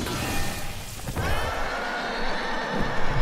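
A horse whinnies in the video game Devil May Cry 5, a short neigh rising over dense, noisy game ambience within a few seconds.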